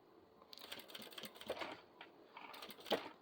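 A sewing machine stitching around a zipper on a small half-moon zippered pouch, a quick irregular rattling of needle strokes in short bursts, close and fairly quiet.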